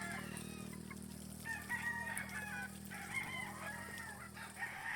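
Game-farm chickens waiting for feed cluck and chatter continuously while a rooster crows nearby, over a steady low background hum.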